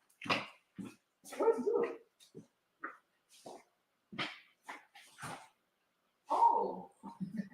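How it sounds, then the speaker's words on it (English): A pet dog whimpers and cries indoors in short, broken bursts, with a person briefly speaking between the sounds. "I swear my dog is crying"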